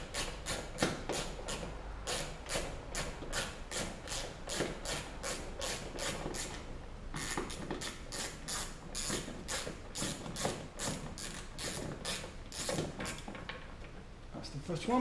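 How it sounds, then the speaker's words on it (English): Ratchet with a 10mm socket backing out car tail-light bolts during a rear quarter dent repair: rapid, evenly spaced metallic clicks in long close-up bursts, pausing briefly midway before resuming. "It's a 10mm socket, so we'll just take them out now."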